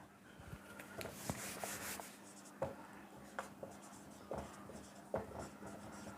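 Writing on a classroom board during a physics lesson, faint scratchy strokes and light taps in an irregular rhythm over a quiet room hum.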